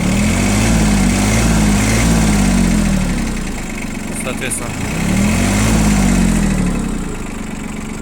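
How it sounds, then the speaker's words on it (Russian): A utility mini tractor engine runs steadily just after starting, a loud chugging idle with a slow rhythmic rise and fall in pitch, while someone speaks briefly over it. "хорошо трактор работает без проблем"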